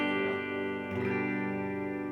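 A Fender or Squier Strat HSS electric guitar plays through British-style distortion, a sustained, thick, buzzing chord rich in harmonics, followed by a fresh strum that rings on steadily, loud and alone.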